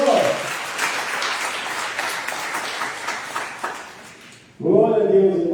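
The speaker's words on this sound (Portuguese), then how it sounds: "Você pode aplaudir o nome do Senhor" A church congregation applauds in a steady, dense wash of clapping that fades toward the end, after which a voice begins speaking loudly.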